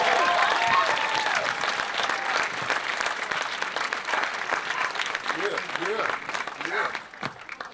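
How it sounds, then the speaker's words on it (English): An audience at a school-to-prison pipeline panel discussion breaks into loud, sustained applause that tapers off toward the end, with voices talking and calling out over the clapping. "Give them a round of applause."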